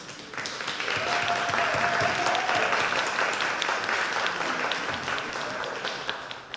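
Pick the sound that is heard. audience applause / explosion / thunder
audience applause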